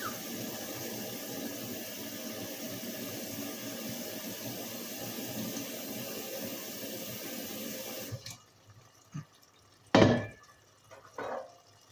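Water runs steadily from a tap for about eight seconds, a constant close rushing stream, then stops, followed by a few brief clinks and handling knocks in a home kitchen.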